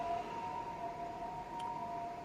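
An ambulance siren wails steadily in the distance, faint and continuous, heard from a rooftop at night with low background hum.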